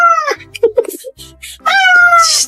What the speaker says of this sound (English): That jealous meow says